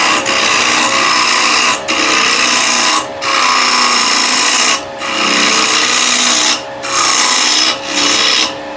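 Rough rasping scrape of a round nose curved scraper hollowing wood on a lathe, loud and close in long continuous passes broken by brief pauses.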